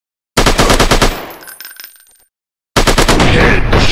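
Rapid bursts of gunfire in a sniper shooting video game, loud and close: a dense rattle of shots that trails off into a fading tail and a pause, then a fresh heavy burst starts up.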